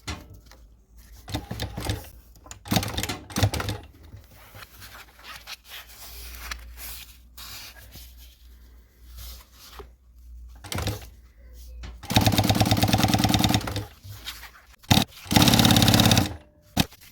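Sewing machine stitching along the zipper of a universal utility pouch, with quiet handling and rustling of fabric before two loud bursts of steady motor-driven stitching near the end.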